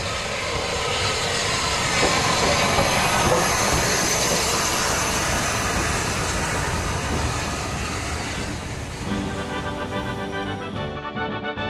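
A Southern Railway steam locomotive, a rebuilt Battle of Britain or West Country class engine, roars past with a dense continuous rumble that stays loud throughout and shifts in tone near the end.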